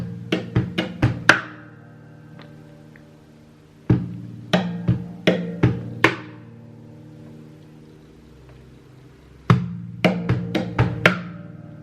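Rhythmic percussive strumming and slapping on an acoustic guitar imitating bass drum and hi-hat, repeating a quick beat in three bursts separated by brief pauses.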